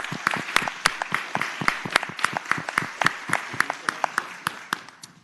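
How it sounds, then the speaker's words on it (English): Lively applause for visitors fills the Virginia Senate chamber, a steady run of individual claps that fades out over a few seconds. "let's give them a warm round of applause"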